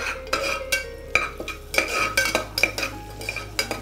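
A metal spoon scrapes and clinks against a pan while bay leaves and cinnamon stick are stirred and sautéed in melted butter for a drumstick soup, a steady run of close, sharp knocks with a soft sizzle beneath.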